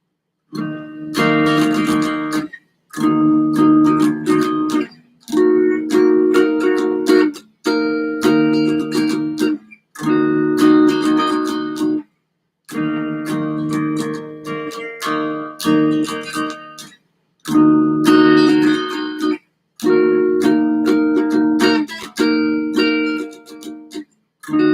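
Guitar playing inside chords: a sequence of strummed chords, each ringing for a second or two before a brief silent gap, loud and close with no talk.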